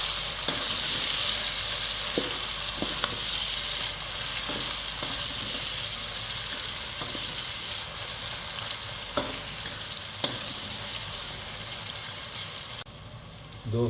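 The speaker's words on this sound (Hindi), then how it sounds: "अब दोस्तों प्याज ऐड करेंगे। प्याज को अच्छी तरीके से मिक्स करेंगे दोस्तों।" Onions fry in hot oil with a dense, loud, unbroken sizzle while a spoon stirs them, adding scattered light scrapes and taps. The hiss falls off abruptly near the end, with no voices.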